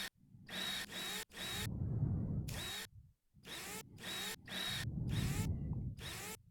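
A power tool from a rover repair video game buzzes in repeated bursts, removing the small screws on the Perseverance rover, each whir starting and stopping abruptly with short gaps between, loud and close.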